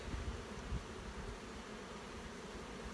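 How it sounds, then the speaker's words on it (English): Soft, continuous hum of a mass of honey bees in a queenless spring nest, a faint steady buzzing with light rustling close by and no voices. "There seems to be a good mass of bees in here, probably three or four frames worth of bees."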